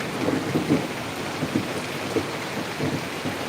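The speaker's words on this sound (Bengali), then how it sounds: "কি বৃষ্টি বাবা" Heavy rain pours down in Shashidharpur village, Daulatpur, Kushtia, a dense continuous hiss close by with low thunder rumbling underneath.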